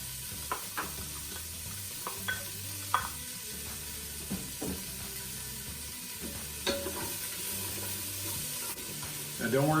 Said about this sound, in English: Now drop those onions in.